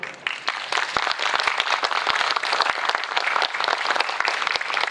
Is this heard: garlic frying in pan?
no